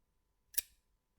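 Scissors snipping a tag off a pillow: one quick, crisp cut, close and isolated in an otherwise quiet room.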